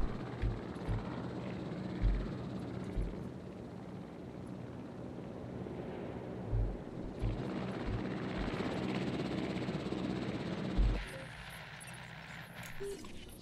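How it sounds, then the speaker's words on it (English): A helicopter flying in the video game Jurassic World Evolution, a steady rotor drone with recurring low thumps that lightens near the end. "The chopper can return"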